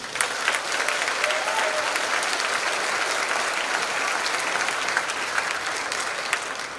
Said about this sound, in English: If we could have a round of applause, please.